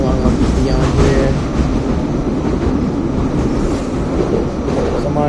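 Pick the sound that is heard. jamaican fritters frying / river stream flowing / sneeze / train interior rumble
train interior rumble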